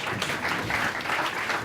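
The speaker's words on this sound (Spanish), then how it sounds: "Para todos ellos, un fuerte aplauso" A conference audience applauds the panelists, a dense, steady wash of clapping that carries on through the whole short stretch, loud and close.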